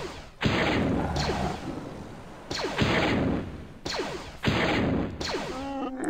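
Troopers exchange fire in Star Wars: Galactic Battlegrounds, with a series of sharp, loud blaster bursts arriving in irregular clusters, each followed by short decaying whooshes and zaps.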